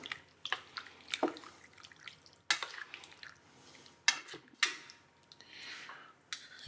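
A scallop and shrimp ceviche is stirred in a bowl, with soft wet squelches and sharp clinks of a utensil against the dish coming in irregular bursts, close and fairly quiet with no talking.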